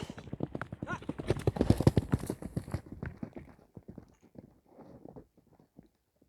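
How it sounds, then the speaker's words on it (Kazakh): A horse runs toward the listener, its hooves clip-clopping in a quick, loud, rhythmic series that peaks early and then fades as the steps grow fainter and sparser. "Экинчи номердеги мына чуркап келаткан атка маани бериңиздер, байкаңыздар."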